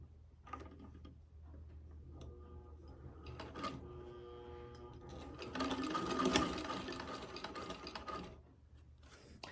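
A 1952 Singer sewing machine run by foot pedal stitches a pouch, its steady mechanical whir and ticking gear rhythm building louder through the middle and easing off toward the end, with no talk over it.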